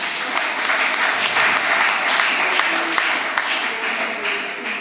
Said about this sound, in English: Baptists, give yourselves a big round of applause.